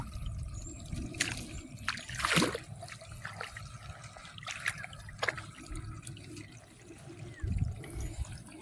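Water overflows and trickles through a weedy rice paddy, a quiet, continuous dribble outdoors broken by a few brief splashes and gurgles.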